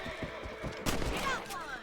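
Rifle shots in Red Dead Redemption while hunting rabbits, a few sharp cracks with one louder shot in the middle, close and short, with characters talking over them.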